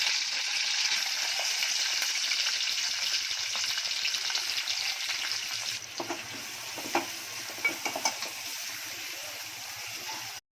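Onions frying in coconut oil in a pan, a loud continuous bright sizzle that runs steadily, with a few stirring knocks and scrapes near the end before it cuts off.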